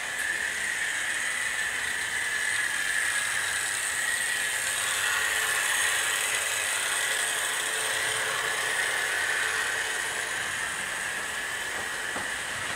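A model railway LNYR Class 5 locomotive runs along the track, a steady whirring mechanical hum with light rail rumble throughout, no voices.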